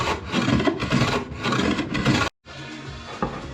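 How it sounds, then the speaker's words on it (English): Hand plane shaving wood with the grain while building a custom coffee table, a close, loud rasping swish repeated in several strokes, followed by a brief pause and a softer final pass. "See, planing with the grain, so I'm not kind of picking into the grain."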